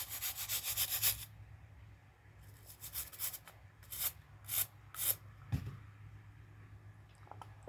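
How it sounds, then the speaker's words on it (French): Wire brush scrubbing brass cartridge cases, a long steady rub at first, then a pause, then a series of short bristly strokes with faint handling noises, close and alone. "je vais pas avoir trop le choix d'y aller avec la brosse métallique"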